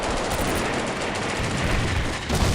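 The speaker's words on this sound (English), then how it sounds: "German artillery is dropping pretty heavily on our position" German artillery pounds a position in the Combat Mission World War II game: a dense, continuous wall of loud explosions and rattling gunfire with no break.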